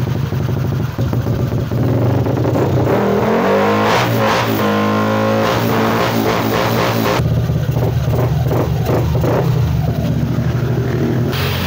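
Yamaha Aerox v2 scooter fitted with a JBT 220cc engine, loud and close, idling with a rough putter and then revving hard in repeated sharp throttle bursts that rise and fall.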